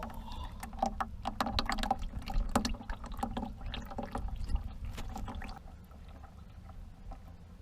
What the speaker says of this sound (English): now my oil's coming out